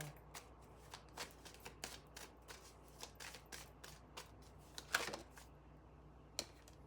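Tarot cards shuffled by hand at close range, a steady run of soft riffling flicks and slaps with a sharper snap near the end, quiet and alone.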